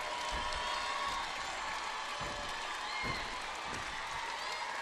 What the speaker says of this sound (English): But how do you block out a cheering crowd? It's clapping rhythmically.